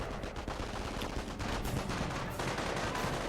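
American snipers fire in the World War II strategy game Company of Heroes during a 2v2 match, with dense, rapid gunfire and battle noise at moderate level throughout.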